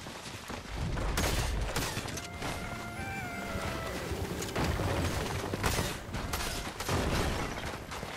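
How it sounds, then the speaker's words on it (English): Fortnite gunfire during a live in-game event, a steady stream of rattling shots and impacts layered over busy game effects, with faint talk. "he's shooting at it, that's good"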